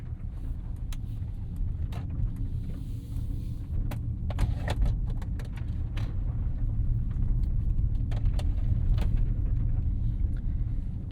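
Continental SportContact tires roll on a 2025 Mercedes-AMG GLC 63 S E Performance, giving a steady low road rumble inside the cabin with scattered small clicks and taps over it.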